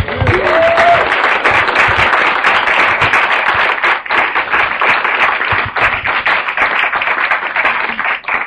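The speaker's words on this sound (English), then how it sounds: "So another round of applause, please" A conference audience applauds a panel with sustained, dense clapping that stays loud and steady throughout, with a faint voice briefly audible early on.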